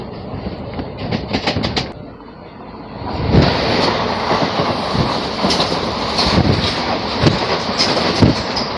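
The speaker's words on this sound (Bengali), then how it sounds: "দাঁড়িয়ে রয়েছে আমার কলকাতা থেকে কন্যাকুমারী ভ্রমণের আরও একটি লোকাল ট্রেন" A local train on the Tiruchirappalli to Madurai line runs along the rails with a steady, close rumbling roar and repeated rhythmic clicks of the wheels over rail joints, with no voices.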